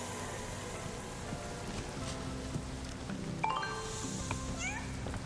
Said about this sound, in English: A unique property where if you collect a token, you hear a cat sound.